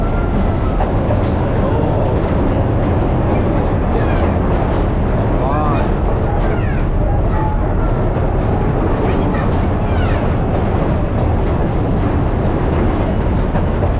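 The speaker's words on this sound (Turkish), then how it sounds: "Trenimiz de öyle kolpadan bir tren değil yani. Bildiğimiz tren." A tourist train in Eskişehir's Sazova Park rolls along with a steady, loud rumble and faint clacking, while people chatter and call greetings nearby throughout.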